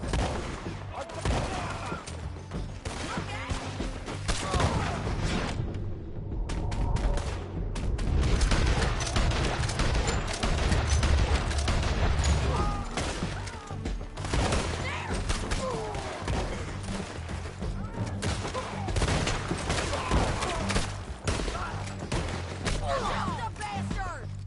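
Sustained, dense gunfire from Red Dead Redemption 2 rattles through a chaotic shootout, overlapping shots and thuds packed together at steady loudness for the whole stretch without a break.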